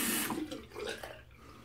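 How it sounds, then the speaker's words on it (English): A small splash of water poured or dripped into a shaving bowl, a short close trickle with wet dripping textures, fading out after about a second. "Go ahead and put a little water in the bowl,"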